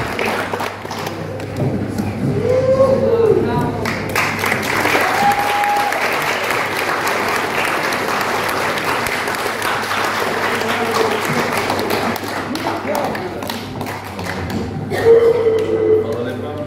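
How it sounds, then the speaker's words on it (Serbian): An audience at a festival award ceremony applauds loudly and steadily for prize winners, a dense continuous wash of clapping with occasional thumps, faint voices and a brief tonal sound woven in. "Hvala lijepa publici na lijepom pljeskanju"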